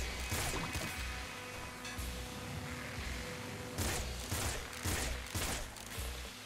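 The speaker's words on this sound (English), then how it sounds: "this gun with homing is the tits. It fires a lot of bolts" A homing bolt gun fires in the Nuclear Throne video game, giving rapid bursts of crackling shots and impacts over a steady game-audio bed, with several louder volleys near the end.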